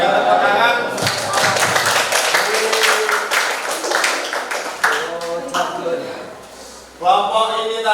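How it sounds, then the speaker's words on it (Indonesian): A classroom audience claps together at a school teaching-practice session, giving a steady patter of applause that lasts throughout. The clapping fades slightly toward the end, then swells again. "Berikan tepuk tangan."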